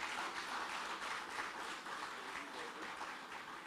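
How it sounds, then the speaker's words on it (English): Audience applause at a housing drive event, steady and sustained clapping from a crowd throughout, moderately loud with a broad, even texture. "we can give him a big round of applause"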